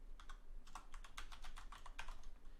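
Quick run of close keystrokes on a computer keyboard while writing a TypeScript function, fast crisp clicks in a steady flurry with no voices.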